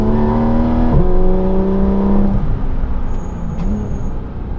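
Porsche GT3 RS engine revving hard with the PDK gearbox in sport mode, loud harmonic whine climbing then dropping at a quick upshift, continuing to pull at high revs with no voices.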